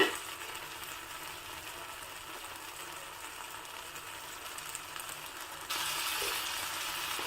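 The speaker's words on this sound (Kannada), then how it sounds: "ಬದನೆಕಾಯಿ ಟೊಮೊಟೊ ಈರುಳ್ಳಿ ಎಲ್ಲ ಚೆನ್ನಾಗಿ ಫ್ರೈ ಆಗಿದೆ" Brinjal, tomato and onion frying in a pan, a soft even sizzle that grows slightly louder near the end, with light stirring scrapes and no voices.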